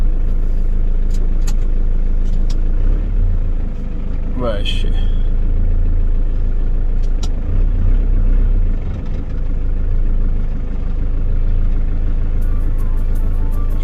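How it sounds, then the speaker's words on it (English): A van's engine idles while warming up on a rainy roadside, a steady low rumble running throughout with passing traffic, and a person speaks briefly over it. "Should really let the van warm up."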